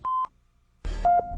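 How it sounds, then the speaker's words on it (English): Two short electronic beeps, the first clean and steady, the second slightly lower and sounding over a burst of rough background noise. "Some people will hear a tone or beeping sound."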